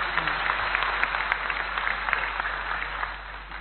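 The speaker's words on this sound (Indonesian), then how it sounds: "Tepuk tangan untuk beliau." An audience at an Islamic study gathering with Kiai Ahmad Bahaudin Nur Salim claps for a committee member, a muffled, even patter of many hands over a low electrical hum, with some murmuring mixed in.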